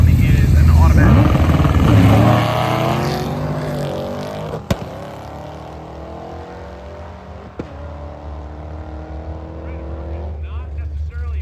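A 1966 Ford Galaxie 500 with a six-cylinder engine and automatic transmission roars loudly past on a Michigan track, its engine tone sweeping down and fading as it recedes; a voice talks over it.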